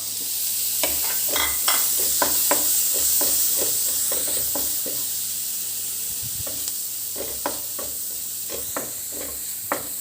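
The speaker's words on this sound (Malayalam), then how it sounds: "എല്ലാം കൂടെ ഒന്ന് ഇളക്കാം." A spoon scrapes through a brinjal and potato stir-fry in a pan, making a run of quick, rhythmic strokes over a steady close-up sizzle of frying. After a short pause, another series of stirring strokes follows.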